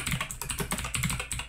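Rapid, steady typing on a computer keyboard while writing CSS code, keys clattering close up in a continuous run with no talking.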